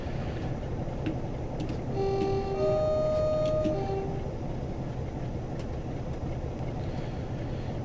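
British Rail Class 47/4 diesel locomotive from a train simulator game, running on a freight working from Carlisle to Kingmoor Yard, with a steady low engine rumble and brief tonal horn-like notes midway.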